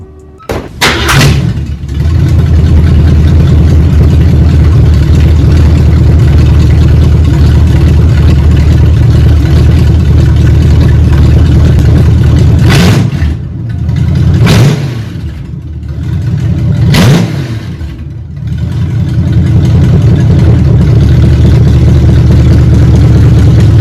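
A car engine fitted with newly installed exhaust headers runs loudly and steadily, with a few sharp revs rising and falling in quick succession near the middle.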